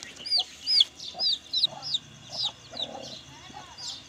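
Aseel hens clucking close by in a rhythmic series of short, sharp calls, about a dozen bursts spaced every few tenths of a second, over quiet farmyard background.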